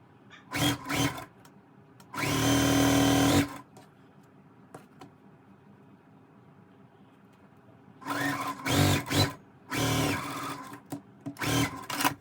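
A sewing machine stitches a quilt block: short, quick bursts of whirring, with one longer run early on, then a cluster of stop-start bursts near the end, separated by quiet gaps.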